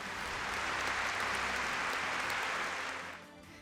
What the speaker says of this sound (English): Once again, give a huge round of applause for Kusha Kapila.